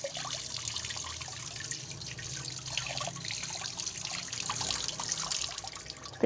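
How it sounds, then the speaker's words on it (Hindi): Raw fish rinsed by hand under running water in a kitchen sink, a steady close splashing and trickling stream with small drips and handling sounds throughout, with no talk. "तो ये देखें हमने इसको अच्छे से धो लिया है, साफ़ हो गई है"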